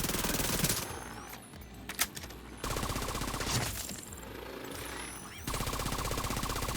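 Gunfire from a video game in which a mortar is used: sustained, fairly quiet bursts of rapid shots with brief lulls between them, repeated across the whole stretch and heard alone without talk.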